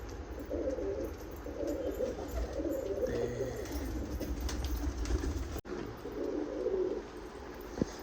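Pigeons coo in a breeding loft among Rampuri, Teddy and Dabbwale birds, low rounded calls repeating in bursts at moderate distance, with faint rustling and a brief flutter of wings.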